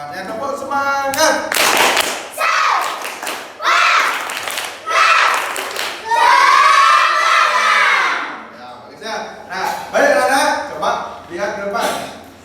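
Children in a classroom perform 'tepuk semangat', loud patterned group clapping in repeated bursts, mixed with shouted chanting, cheering and an adult voice leading them.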